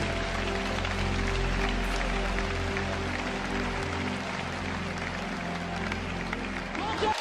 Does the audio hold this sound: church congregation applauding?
yes